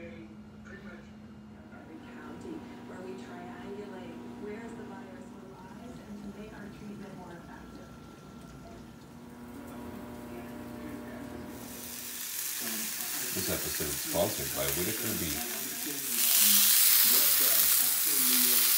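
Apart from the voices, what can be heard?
Italian sausage and hamburger frying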